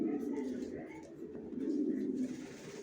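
Young racing pigeons in a loft coo steadily in a low, continuous murmur throughout, fairly close and with no talking over them.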